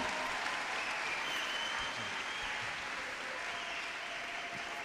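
A church congregation claps together in a sustained, dense burst of applause that stays even and fairly close throughout, with no voices rising above it.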